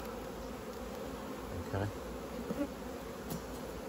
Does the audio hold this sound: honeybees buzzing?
yes